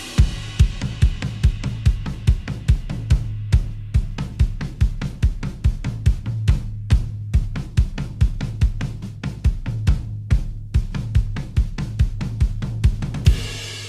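Drum kit playing the interlude and opening of the bridge of a song: a steady, driving pattern of evenly spaced strikes, with a low tone underneath and a crash near the end.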